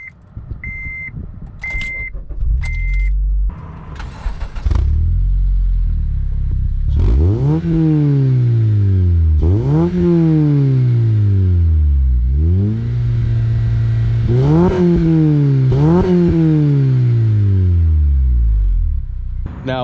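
A 2008 Honda Civic Mugen Si with its 2.0-liter four-cylinder fires up after a few short chirps, then settles and is revved repeatedly, each sharp rise and fall of the engine loud and close with a raspy exhaust note.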